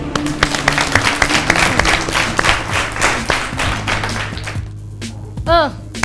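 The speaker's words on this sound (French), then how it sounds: "Le public, applaudissez-vous." Audience applause at a 2018 children's quiz competition, a dense patter of clapping that runs for several seconds with a host's voice and background talk over it, then tapers off near the end.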